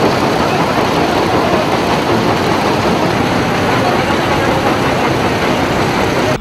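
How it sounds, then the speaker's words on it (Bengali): A dredger engine pulls sand up from a river, giving off a loud, steady diesel drone that runs unbroken from start to finish with no pauses. "সরজমিনে গিয়ে দেখা গেল ড্রেজার দিয়ে অবাধে চলছে বালু উত্তোলন কাজ"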